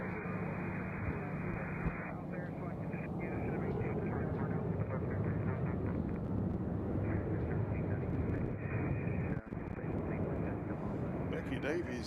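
United airliner at Nashville International Airport, a steady broad jet roar holding throughout, moderately loud and continuous, with a voice talking over it.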